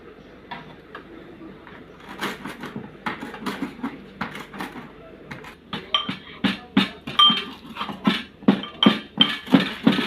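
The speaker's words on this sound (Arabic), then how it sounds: "وضحى بقى بتدق الثوم" Garlic pounded in a mortar, sharp knocking strikes that begin sparse and grow into a quick, steady rhythm, close and clear over a quiet kitchen background.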